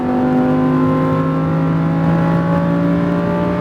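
A Lamborghini Huracan accelerates on a track, its engine producing a loud, steady droning tone that climbs gradually as the car pulls through the gears.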